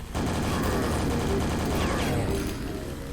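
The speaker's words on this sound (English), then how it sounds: "Now we can break out the nail guns and nail these guys." Nail guns firing rapidly in the video game Quake, a dense, loud stream of mechanical shots continuing almost without pause, mixed with game noise and tapering off at the end.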